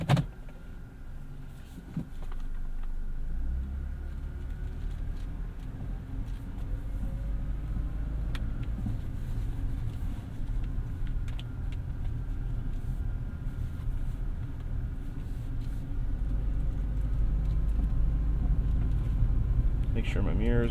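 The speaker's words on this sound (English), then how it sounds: "let's take this thing for a ride" A 2012 Suzuki Grand Vitara Limited is heard from the cabin while driving, giving a steady low engine and road rumble that rises slightly near the end, with brief clicks at the start.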